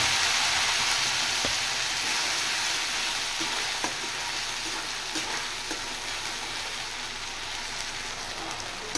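A ground paste of onion, ginger and garlic sizzles and fries in a pan with whole spices, a steady hissing crackle with occasional faint clinks, continuous and alone.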